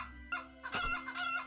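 Chickens cluck and crow in the farm-building video game Havendock, a short burst of close, loud fowl calls that rise and repeat with no speech over them.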